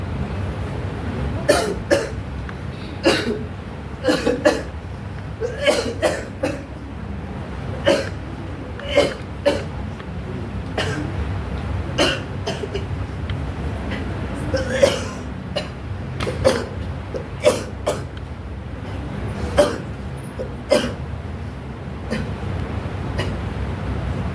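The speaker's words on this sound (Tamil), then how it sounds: "தொடர் தொடர்ச்சியாக இருமல் வந்து கொண்டே இருக்கிறது" Someone coughs over and over in short sharp bursts in a Tamil stage play, sometimes in quick clusters, fairly close, with quiet pauses between the fits.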